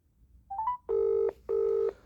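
A few short rising beeps, then two long electronic telephone rings with a brief gap between them, clear and close.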